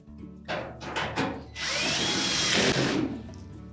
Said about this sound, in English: Tuck that in and then install the retaining screw.